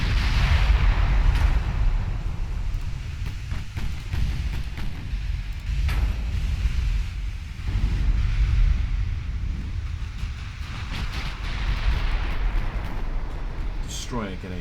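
Naval battle in the warship strategy game Ultimate Admiral Dreadnoughts, with battle cruisers firing on a destroyer: dense, continuous rumbling cannon fire and booming blasts under a constant roar, with someone talking over it.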